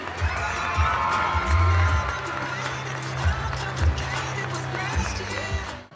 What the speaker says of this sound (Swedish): Så ge henne applåder ordentligt och tack för det du har gjort här.